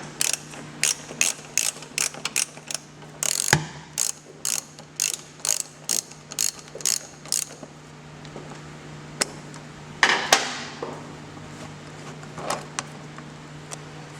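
A hand ratchet turns out a seat bolt on a motorcycle, a run of rapid, regular clicking strokes close up, then a pause followed by a few scattered clicks and metallic handling noises.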